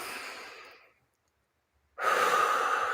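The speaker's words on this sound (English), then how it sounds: "Just take a couple deep breaths in." Deep meditation breathing sounds close and soft: one long exhale fades into a second of silence, then a strong, steady inhale follows.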